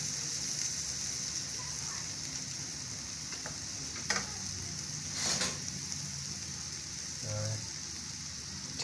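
Carrot soup seasoned with turmeric is stirred in a pot, giving a steady sizzling hiss with a few soft spoon clinks and scrapes against the side.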